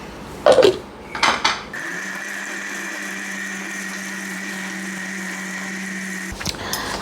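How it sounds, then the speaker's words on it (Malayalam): After a couple of clinks from the jar, a mixer grinder whirs steadily for about four and a half seconds, grinding sesame chutney with fried asafoetida and a little water, then cuts off with a final clatter. "ഇനി ഒന്ന് മിക്സിയിൽ വെച്ചിട്ട് അരച്ചെടുക്കുക"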